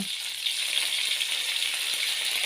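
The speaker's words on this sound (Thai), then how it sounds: "พัดให้ดอกกระล่ำเข้ากับน้ำมันทั่วกันดีก่อนนะ" Cauliflower florets stir-fry in hot oil in a wok for a shrimp dish, producing a loud, steady crackling sizzle throughout.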